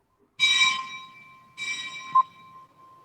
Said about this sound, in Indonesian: walaupun sudah bel berbunyi sebentar lagi ya